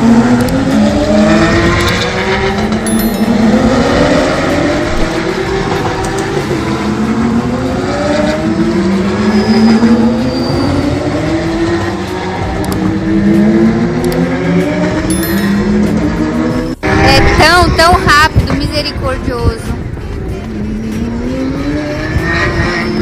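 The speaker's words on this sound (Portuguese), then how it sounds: "Olha que legal esse carro, olha que legal esse carro." A car engine revs repeatedly in rising and falling sweeps, loud and close, with a sharp transient near the end followed by further revving and some background noise.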